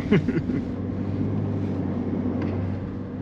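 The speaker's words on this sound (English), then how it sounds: "I'm barely just feathering the throttle, and this thing's just getting up to speed, no issue at all" A 2022 Chevrolet Silverado 1500 RST with the 3.0 Duramax diesel engine accelerating gently on light throttle, a low steady drone with road and wind noise heard from inside the cab.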